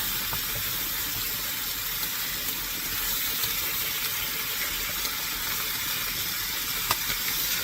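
Boneless pork chops sizzle in a cast iron skillet as they are turned, giving a steady, loud hiss of frying throughout with no talking.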